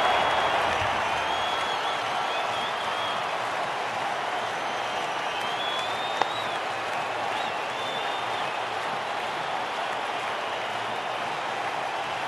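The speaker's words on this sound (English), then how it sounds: "Oh, what a shot! Crowd's gone mad." Stadium crowd at a one-day international cricket match between Sri Lanka and Zimbabwe roaring and applauding after a big shot, a dense, sustained wash of cheering and clapping that holds steady and loud throughout.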